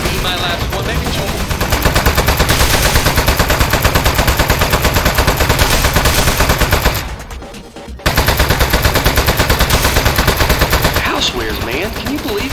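Rapid automatic turret gunfire in the Aperture Desk Job game, a loud sustained rattle of shots that breaks off briefly and then resumes at full intensity.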